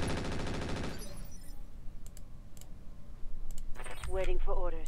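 Mech weapons fire in the Roguetech video game with a dense, rapid burst of shots. A few sharp isolated cracks follow, then a voice speaks near the end.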